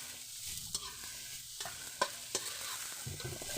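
Sponge gourd (sikwa) fries in a pan with a soft, steady sizzle while a utensil scrapes and stirs, giving occasional sharp clinks and scuffs against the pan, close and fairly quiet.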